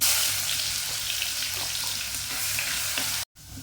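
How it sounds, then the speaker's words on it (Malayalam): Crushed shallots, garlic and ginger sizzle loudly in hot coconut oil in a pan, a steady close frying hiss with faint stirring, cut off by a brief silence near the end. "ചട്ടിയിൽ വെളിച്ചെണ്ണ ഒഴിച്ച് ചൂടായുണ്ട് അതിലേക്ക് ചെറിയുള്ളി വെളുത്തുള്ളി ഇഞ്ചിയും കൂടി ചതച്ചത് ആദ്യം ഇട്ട് കൊടുക്കുന്നുണ്ട്"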